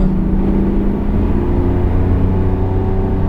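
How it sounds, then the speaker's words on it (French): A car engine drones loudly and steadily from inside the cabin on the Bugatti circuit at Le Mans during a driving course, a deep rumbling hum under acceleration with no pauses. "Allez, on remet un filet de gaz"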